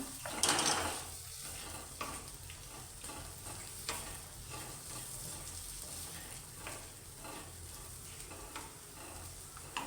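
Taro leaf curry with ground dry coconut and cumin paste being sautéed in a pan, a faint, steady sizzle with soft scraping stir strokes and occasional light clinks of a utensil.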